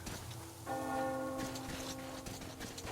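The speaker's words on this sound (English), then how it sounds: "Do you hear that bell?" In the video game Metro Exodus, a single bell tolls once and its tone hangs and slowly fades, quiet and somewhat distant over a faint patter of rain, with no speech.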